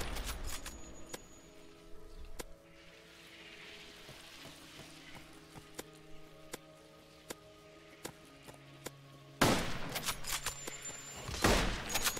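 Sniper fire in the survival game Decaying Winter: sharp isolated cracks at irregular intervals over a quiet hum, ending in a louder cluster of shots and impacts.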